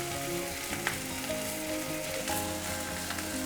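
Turmeric and other ground spices hit hot oil in a frying pan with tomato, giving a steady, close sizzle and crackle that carries through the whole stretch with no voices.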